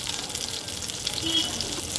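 Fish fries in a pan with potato and green chili, a close, continuous sizzle and bubbling crackle at moderate loudness with no clear speech.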